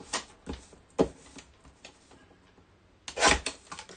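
Paper trimmed off the top of a handmade craft pocket: a few close, scratchy cutting and rubbing strokes in short bursts, ending with a louder rasping pass, with quiet pauses between.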